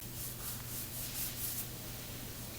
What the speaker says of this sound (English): what we're doing now is using 320 and sanding block out any rough edges and dry areas and blocking those areas out